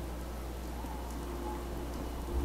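Rain falls in Fallout 4, a soft, even patter heard faintly and steadily on its own.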